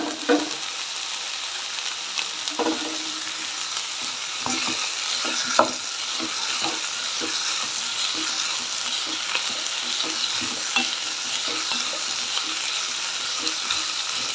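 Bottle gourd and other vegetables frying in a pan for a ragi vegetable soup, a steady close sizzle running throughout with occasional utensil scrapes and taps, no talking.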